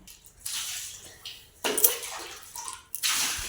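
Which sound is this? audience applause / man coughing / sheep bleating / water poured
water poured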